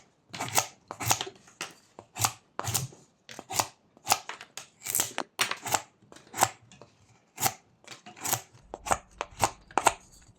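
Whittling knife shaving the edges off a small wood block, a quick run of sharp scraping cuts heard close up with brief pauses, the strokes coming in irregular bursts.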